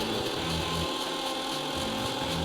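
A kitchen mixer grinder runs loud and steady, grinding mint, green chilli, lime juice and kala namak into a paste, with a dense whirring roar that holds constant throughout.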